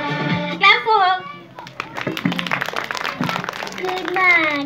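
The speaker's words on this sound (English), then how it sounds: "Clap for her." Children and adults at a school Christmas event clap for a contestant in a scattered, rising burst, mixed with a voice and the chatter of kids around it.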